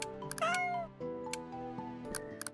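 Cat in an indie video game gives a short rising meow, heard up close over a steady game music bed with several light clicks and ticks scattered throughout; no talking.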